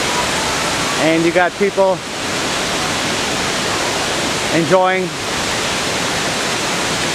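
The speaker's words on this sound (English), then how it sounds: "Look at the water dripping out from there." Water dripping and trickling from a rock overhang at Hamilton Pool, Texas, a steady broadband splash that runs through the clip, with people talking in two short bursts.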